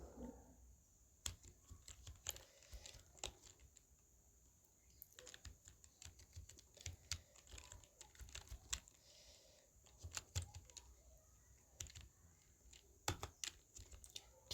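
Keystrokes on a computer keyboard as a name is typed, with irregular bursts of close, crisp clicks and short pauses between them, heard alone in a quiet room.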